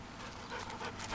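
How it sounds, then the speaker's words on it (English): A pet dog pants steadily at close range, a continuous breathy rhythm with no other sounds over it. "Hunter, this is my dog Hunter"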